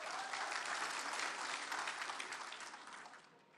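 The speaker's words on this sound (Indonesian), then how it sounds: "Tepuk tangan meriah." Lively applause from the audience at a public debate for Aceh governor and vice-governor candidates, a dense steady roar of many hands that holds strong, then tapers and fades toward the end.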